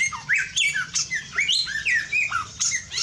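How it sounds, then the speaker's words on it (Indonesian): Samyong birds squawking in an aviary, a busy run of loud, harsh, overlapping calls and chirps with almost no pause over a low murmur of background noise. "kita bisa mendengarkan si burung samyong ini"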